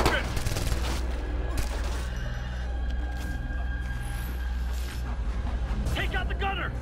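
A rifleman is fired on in Ghost Recon: Future Soldier, with rapid bursts of automatic gunfire continuing throughout under shouted voices.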